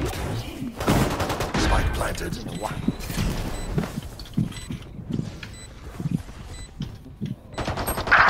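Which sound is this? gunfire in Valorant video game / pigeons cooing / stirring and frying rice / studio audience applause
gunfire in Valorant video game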